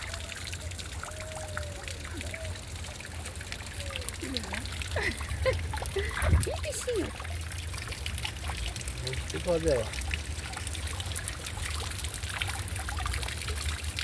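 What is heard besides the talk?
small waterfall of clear water trickling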